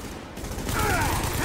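Gunfire aimed at supplies during a siege in The Division, a brief burst of rapid shots that builds in loudness within a noisy battle backdrop, with a voice speaking.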